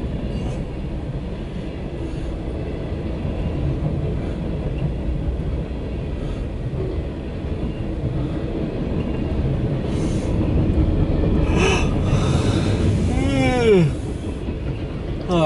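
A CSX Q372-15 mixed freight train rolls past with a continuous loud rumble and clickety-clack of wheels, a brief squeal and a rising roar near the end, with voices faintly audible.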